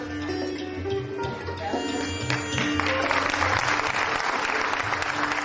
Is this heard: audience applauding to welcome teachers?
yes